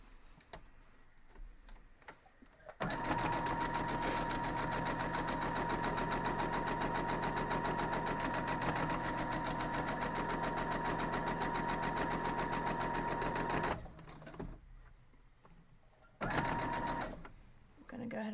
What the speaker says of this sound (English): So let's go back over and we'll sew that up.